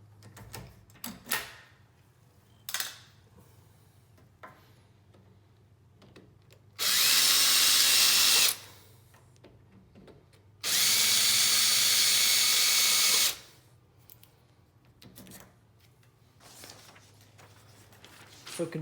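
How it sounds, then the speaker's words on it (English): A power drill backs out the screws of a door handle assembly in two loud, steady whirring bursts of a couple of seconds each, with quiet clicks and handling noises before and after. "I'll take these screws out here, and this whole assembly will come out."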